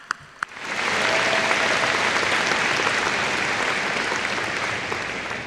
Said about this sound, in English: And just give them a round of applause.